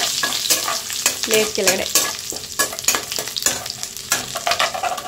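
Whole spices, kasuri methi, cinnamon, cloves, bay leaf, cumin and cardamom, frying in a pan for palak paneer, with loud crackling sizzle and repeated scraping stirs; a few words spoken briefly.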